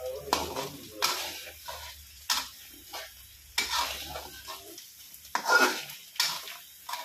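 Chicken rendang stirred in a pan gives a run of spaced scraping and clinking strokes of a spoon against metal, each a short burst over a faint low sizzle, with quiet pauses between them.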